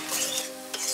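Spices sizzle and are stirred in a hot pan for Bengali-style ghugni, a steady bright frying hiss with a soft scrape of a spoon, close and continuous for about a second.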